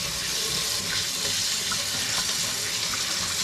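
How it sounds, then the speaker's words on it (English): A brined trout fillet is rinsed under a running kitchen tap, giving a steady, close hiss of water splashing into a sink without pause. "I like to give it a rinse. You gotta wash all this brine off."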